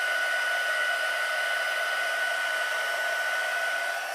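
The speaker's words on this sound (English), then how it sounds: "And the hotter your heat gun is, the better it goes." A heat gun blows steadily while drying and flattening a saturated gel press print, a constant close airy whir with a faint high whine and no change in level.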